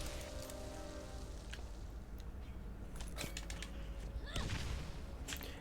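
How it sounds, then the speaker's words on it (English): A grenade goes off for a grenade jump in the Borderlands game at Knoxx's armory. A couple of sharp blasts cut through faint, rain-like game ambience. "it's just a very simple grenade jump up here"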